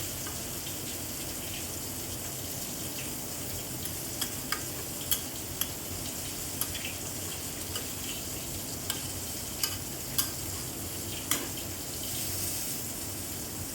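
Potatoes and drumstick leaves sizzle softly in a pan while being stirred, a faint steady hiss with occasional light clicks and scrapes of the spoon spread across the clip, no speech.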